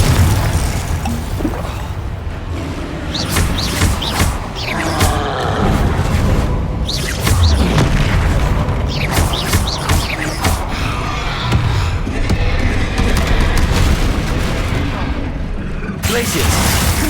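Rapid volleys of Confringo fire spells in Hogwarts Legacy, each a sharp crackling burst with a booming tail, firing steadily among other combat spell effects and a dense game soundtrack.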